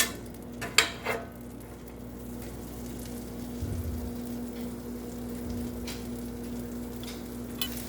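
Butter and a little oil melt in a pan with a soft, low sizzle, while a couple of sharp metallic clinks of utensils ring out near the start and a faint hum runs underneath.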